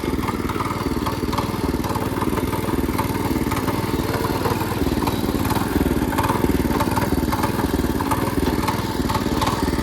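A tractor engine chugs steadily and loudly up close, its rapid, even thumping continuing throughout while it drives along.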